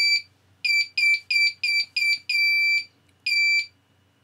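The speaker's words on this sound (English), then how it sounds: "the buzzer will sound." A flight controller's electronic buzzer beeps in a series of short, loud tones, seven quick pulses, a pause, then one longer tone, with no one speaking.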